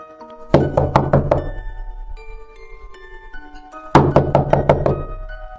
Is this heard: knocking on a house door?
yes